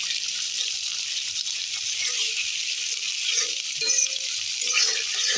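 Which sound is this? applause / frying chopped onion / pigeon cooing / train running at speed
frying chopped onion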